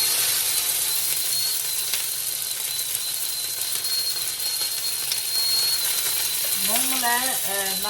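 Onions and curry leaves fry in hot oil for a restaurant-style chutney, giving a steady close sizzle throughout; a voice briefly speaks near the end.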